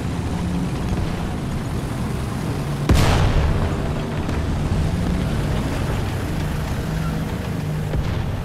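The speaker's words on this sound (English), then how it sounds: "Enemy tank has been destroyed." An enemy tank blown up in a video game, one sharp explosive boom about three seconds in, rising out of a constant rumbling battle din that carries on afterward.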